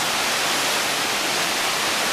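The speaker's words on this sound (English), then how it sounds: "it is pouring rain and thunder and lightning" Dense, steady hiss of heavy rain pouring down during a thunderstorm, heard from inside a wildlife observation hide in the Taman Negara jungle, loud and unbroken throughout.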